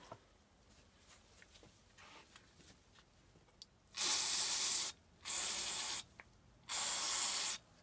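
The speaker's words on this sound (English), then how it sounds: "Nothing a little carb cleaner won't fix." Carburetor cleaner sprays onto the crusty jet of a 1987 Snapper mower carburetor in three sharp, close hissing bursts after a few quiet seconds.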